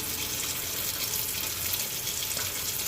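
Water poured and mixed into soft doubles dough for Caribbean street food, giving a continuous close wet splashing and stirring hiss with no pauses.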